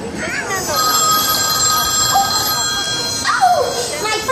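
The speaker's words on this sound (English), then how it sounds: "Oh, my first bed phone is ringing." A bedside telephone rings loudly with a steady electronic trill that carries on throughout, and a voice speaks briefly over it.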